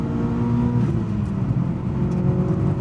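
A 1999 Mitsubishi Lancer Evolution VI, modified, gives a heavy throttle blip to rev-match a downshift, engine rising and settling close and loud from inside the car, with a steady mechanical whir underneath.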